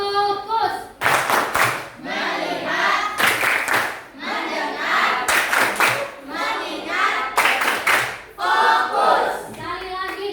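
A class of children performs the 'tepuk fokus' clapping chant, with sharp rhythmic bursts of group hand claps alternating with loud chanted voices, close and energetic throughout.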